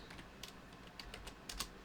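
Quiet computer keyboard typing in uneven bursts of light clicks, heard close but faint while someone writes code for a Project Euler problem.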